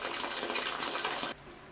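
Meat stock pours steadily into a pot of combined palm nut and peanut butter soup, a close, liquid gush lasting just over a second before cutting off abruptly.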